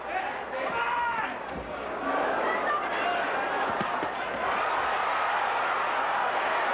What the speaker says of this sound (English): The crowd responding to every flurry of Sugar Ray Leonard.